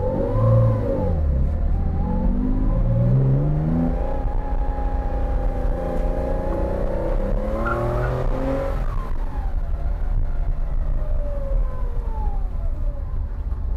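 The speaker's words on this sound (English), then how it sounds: "So I just drove this car in a spirited manner." A Porsche 914-6 driven spiritedly, its engine rising and falling through revs as it accelerates and shifts, loud and steady throughout with no talk over it.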